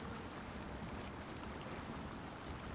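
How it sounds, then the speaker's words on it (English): Steady, dense white-noise rush of a waterfall in Lord of the Rings Online, close by and unbroken for a few seconds, with nothing else heard over it. "Waterfall."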